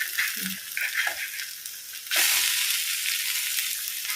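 Fish coated in rice flour shallow-frying in oil, a close, bright hiss of sizzling that jumps louder midway and holds steady, with a few soft handling clunks early on.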